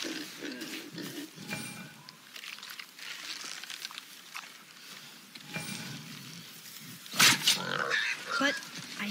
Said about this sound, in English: Could the boar be magical?